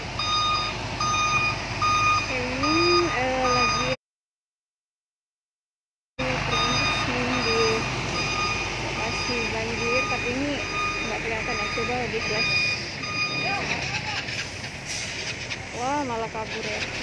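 Concrete mixer truck backing up at a flooded intersection on Jalan Sempaja in Samarinda, its reversing alarm repeating steady, evenly spaced beeps over traffic noise and someone talking, with a short silent gap partway through.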